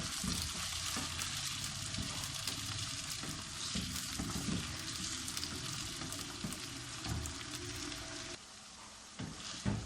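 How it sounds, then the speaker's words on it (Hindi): Chicken pieces frying in a pan without spices, a loud, dense, continuous sizzle with stirring scrapes that eases near the end, with no voices. "चिकन को हम अच्छी तरह मसाले के बगैर फ्राई कर लेंगे।"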